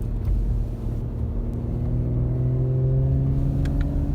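Audi RS5 with 450 hp climbing a foggy mountain pass at about 2500 m, its engine note rising steadily through a gear as it accelerates, loud and close with no talk.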